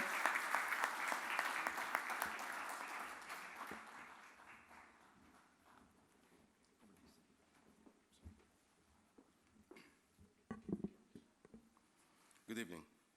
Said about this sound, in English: Can we have a big round of applause to welcome our guest of honor today?